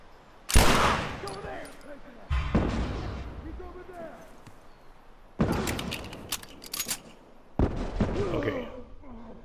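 Gunfire from Tommy shooting enemies in The Last of Us Remastered, with four separate loud bursts of shots spread across the stretch and quieter rumbling between them.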